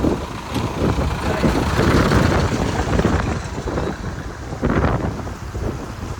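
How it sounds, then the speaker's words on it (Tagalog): Steady, rumbling wind buffets the microphone outdoors on Pangutaran Island, Sulu, with gusts swelling and easing over a broad low roar, and faint voices now and then. "Kaya mahangin."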